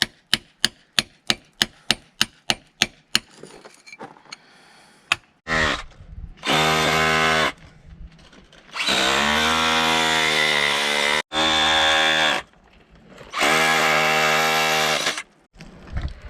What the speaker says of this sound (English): So my little hammer drill is doing a great job.